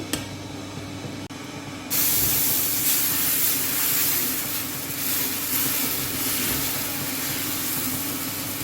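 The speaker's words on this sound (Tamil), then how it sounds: "பாருங்கள் தோசை சுடுறேன்" Dosa batter of mudakathan (balloon vine) leaves sizzles on a hot pan, a quiet hiss at first that swells into a loud, steady spraying sizzle lasting several seconds, close and without talk.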